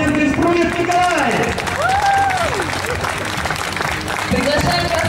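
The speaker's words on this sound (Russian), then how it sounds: "Под ваши бурные аплодисменты Спрунев Николай!" Audience applause at a school graduation ceremony, sustained clapping from a crowd that stays loud and close throughout, with music playing and babble underneath.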